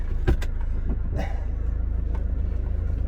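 A car with its seats and carpet stripped out rumbles along with a steady low drone from the engine and road, with a few brief clunks and rattles echoing through the bare cabin up close.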